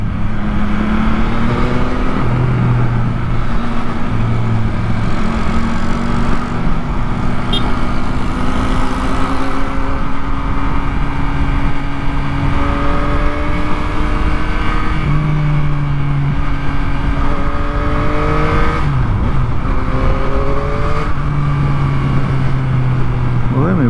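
A Yamaha MT-09 motorcycle rides along a highway, its engine droning loudly under constant wind rush, with pitch rising and falling through gear changes during an overtake, and someone talks over it.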